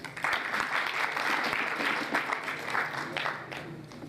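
Applause from a gathered crowd at a poetry or cultural gathering, a dense continuous wash of clapping at moderate level, steady throughout with slight swells.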